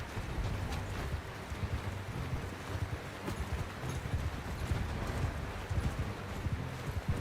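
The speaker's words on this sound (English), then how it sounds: "Someone riding a horse?" Horse hooves clip-clop in the medieval combat game Bannerlord 2, a quick irregular patter of hoofbeats at moderate distance over a low wind and ambient rumble, quiet overall with no talk.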